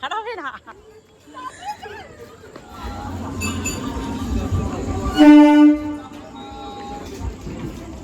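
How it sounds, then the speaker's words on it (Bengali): A train rumbles past nearby with a brief horn blast midway, while people talk and call out over the noise. "ট্রেনটা বেরিয়ে চলে গেল"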